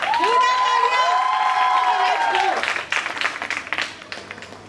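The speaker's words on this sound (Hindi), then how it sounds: "एक बार तालियां हो जाए दीदी के लिए प्लीज।" An audience claps for a student at a college batch ceremony honouring final-year singers and RJs, a dense burst of applause under a presenter's voice that thins out into scattered claps toward the end.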